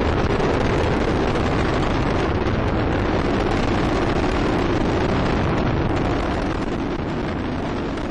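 Space Shuttle Discovery's engines roar through launch from Kennedy Space Center as a continuous, loud, dense rumble with crackling, constant throughout with no voices.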